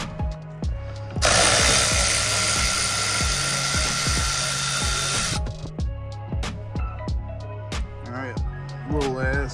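A power ratchet whirs loudly for several seconds while removing bumper bolts from a Mach 1 Mustang, surrounded by steady rhythmic clicking and thudding from hand tools, with some talking in the background.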